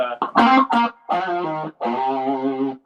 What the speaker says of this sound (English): that's just the guitar, the reverb tank,